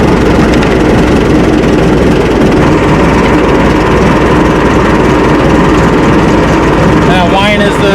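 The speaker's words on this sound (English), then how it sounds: "That whine is the belt pulley." A running Minneapolis Moline tractor engine with the choke pulled fully out, its belt pulley whining steadily over a continuous loud engine drone, with a rising whine near the end.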